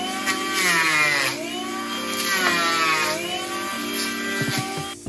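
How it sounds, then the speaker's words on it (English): A cordless power planer whines loudly as it shaves Australian hardwood into chips, its motor pitch dipping and rising with each pass and a brief clatter near the end, close and without talk. "I'm gonna use a cordless planer and add a shopping bag to the extraction port on it."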